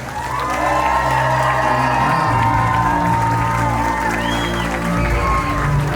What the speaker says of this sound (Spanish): Fuerte los aplausos para Naomi y Christopher